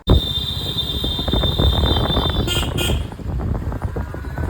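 Rumbling, rattling noise of a train passing nearby, steady and loud throughout, with a brief high horn-like tone partway through.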